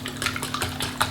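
A utensil beats ricotta with whole eggs in a bowl, giving a quick run of close clinks and scraping strokes in a brief burst.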